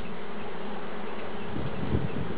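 Honeybee swarm fanning and buzzing, a dense continuous hum close to the listener, steady and fairly loud across the whole short stretch.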